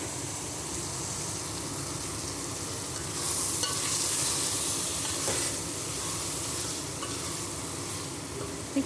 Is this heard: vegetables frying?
yes